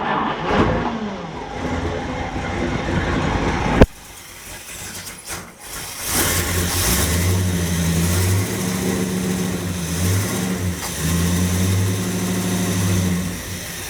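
Car engine after a budget distributor was installed: cranking, then a sharp catch and the engine starting up and settling into a loud, steady running idle with a low rhythmic throb, heard close.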